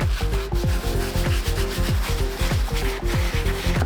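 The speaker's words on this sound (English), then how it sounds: "Soft bristle brush, this is our best friend for this clean. Give it a good scrubbing." A soft bristle brush scrubs a Nike Air Yeezy 2 Platinum sneaker sock liner in quick, rhythmic back-and-forth strokes, loud and close with no talking.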